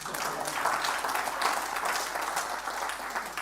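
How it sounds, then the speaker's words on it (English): An audience applauds continuously, many hands clapping in a dense, even wash that holds steady throughout. "I think we should clap again."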